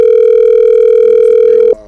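A telephone line gives a single steady electronic tone, loud and close, holding evenly for nearly two seconds before cutting off abruptly.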